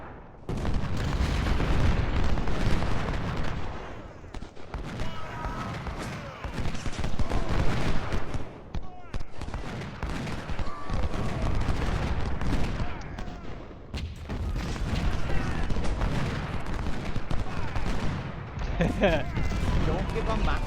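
Continuous rolling musket volleys and distant booms from soldiers fighting in Ultimate General: Civil War, a dense crackling battle din that swells and dips throughout, with someone talking over it.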